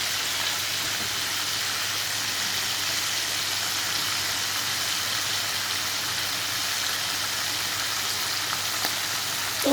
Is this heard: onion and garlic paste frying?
yes